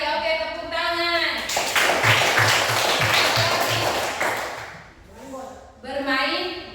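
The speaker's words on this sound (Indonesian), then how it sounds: "Oke, tepuk tangan." Children in a classroom clap their hands together in a short burst of rhythmic claps, loud and close, with a voice speaking before and after the clapping.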